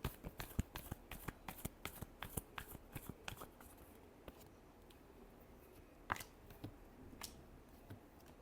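Tarot cards are shuffled by hand in a quick run of crisp riffling snaps, then scattered slower flicks after a pause, close and fairly quiet.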